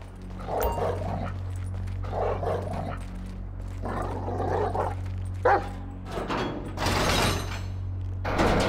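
A dog in Grand Theft Auto 5 barks in repeated loud bursts at an irregular rhythm over a low steady engine-like hum, with a couple of sharp mechanical knocks between barks.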